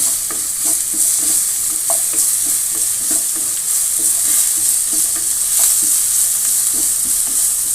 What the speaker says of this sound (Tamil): பூண்டையே ஆட் பண்ணிட்டோம். கொஞ்சம் வதவட்டும்.